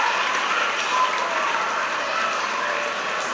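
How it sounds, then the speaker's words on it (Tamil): A school crowd claps steadily and loudly for the office staff, a dense, even wash of applause filling the whole stretch. "திருவாளர் இறுதிராஜ் அவர்களோடு சேர்ந்த அந்த அலுவலக பணியாளர்களுக்கு ஜோரா கைத்தட்டி அவர்களுக்கும் நாம் சிறப்பான நன்றியை தெரிவித்துக் கொள்வோம்"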